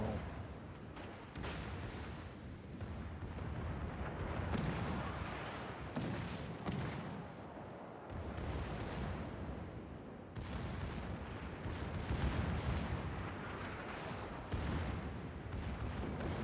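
Guns firing in World of Warcraft, heavy booming shots and blasts crowding together in a loud, continuous battle din with no talk.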